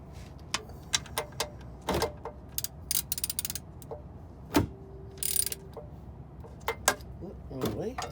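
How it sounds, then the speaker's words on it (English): A hand ratchet works a bolt during a transmission fluid change on an 80 Series Land Cruiser, giving a few separate clicking bursts and short mechanical rattles with pauses between them, close by, with brief speech in the background. "for this part I'm going to use the ratchet"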